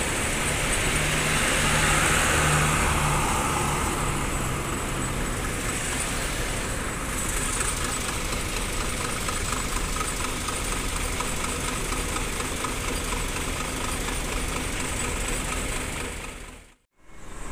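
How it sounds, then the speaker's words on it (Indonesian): A premium intercity bus engine idles with a steady low rumble at a terminal during the holiday homecoming departures, continuing evenly with no talking, then briefly drops out near the end. "Wih, bus premium juga berangkat"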